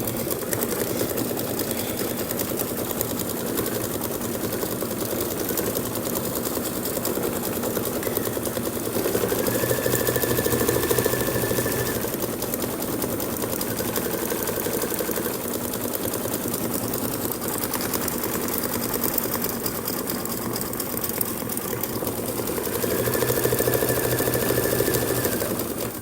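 A computerized embroidery machine stitches out a Kimberbell background-quilting design for a mini pillow keyring, giving a steady, continuous mechanical whir with a fast needle rhythm throughout, fairly close and at moderate level with no talking.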